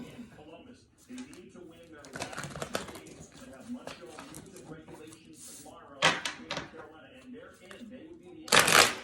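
A tarot deck is shuffled and cards are drawn, with bursts of riffling and flicking interrupted by a person talking nearby, and a final quick shuffle at the end.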